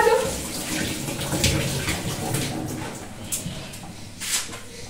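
Water running from a tap while hands are washed, a close steady splashing stream with small shifts in flow.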